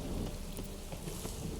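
Steady rain hissing on surfaces in The Witcher 3, a dense broadband wash that stays constant and close throughout with no other sounds standing out.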